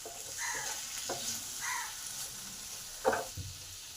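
Dried red chili and tomato sautéing in a pan for a vegetarian mixed-vegetable ghonto, with a steady sizzle and a few scraping stirs, the loudest clatter near the end, close and alone with no talk.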